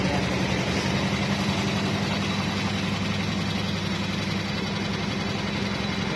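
A bread packaging machine runs with a steady, low mechanical hum and vibration, constant and close, without pauses.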